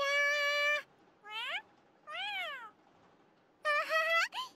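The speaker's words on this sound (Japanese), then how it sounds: "山猫だよ。 村の猫に知らせてくれてる。" A wildcat in the visual novel Monobeno meows four times, loud and close: long, drawn-out, rising and falling cries with pauses between, and no voices.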